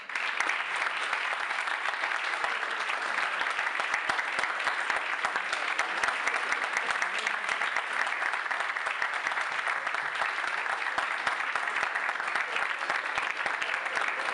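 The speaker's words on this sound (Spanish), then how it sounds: "despedimos con un fuerte aplauso" Sustained, even applause from a crowd of young professionals at a formal gathering in Tuxtla Gutiérrez, Chiapas, loud and unbroken for the full length with no speech on top.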